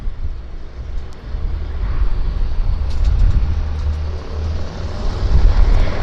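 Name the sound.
aircraft engine run-up at Vancouver airport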